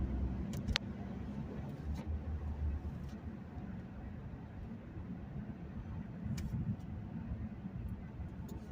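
A manual stick-shift car cruising in fifth gear, a steady low engine and road rumble from inside the cabin with a few faint clicks, no talking.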